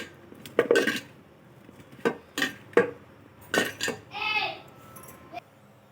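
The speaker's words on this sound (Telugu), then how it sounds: "ఇలా కలిపి పెట్టిన దాంట్లో ఒక స్పూను ఉప్పు కూడా వేసుకొని మనం కలుపుకుందాం" A spoon stirs pasta and a spoonful of salt in a bowl, making quick, bright clinks and scrapes in short bursts, with a brief voice heard near the end.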